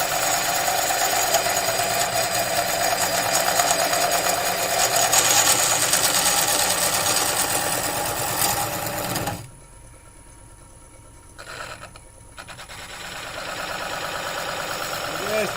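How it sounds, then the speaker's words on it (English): Wood lathe spinning a mallee burl as a skew chisel is fed in to cut a flat base, a loud steady whirring drone that cuts out partway through, then resumes after a short quiet pause. "I'm just feeding this skew in, lifting my handle, and I want to get a nice flat base."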